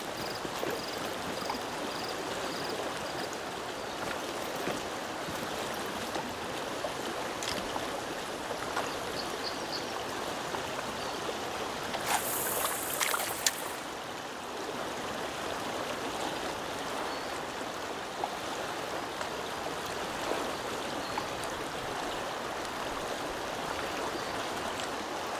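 A river stream flows in the fishing game Call of the Wild: The Angler. It makes a continuous, even rushing and babbling wash that stays fairly loud and steady throughout, with a few faint bird chirps and no talk.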